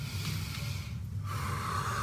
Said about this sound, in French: on inspire très fort